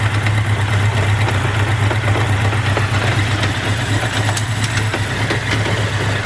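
A 1983 Honda Nighthawk 650cc motorcycle engine runs steadily at a loud, close, even idle, with a strong low hum throughout and no speech.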